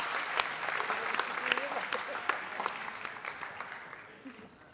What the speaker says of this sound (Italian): Un applauso lo stesso.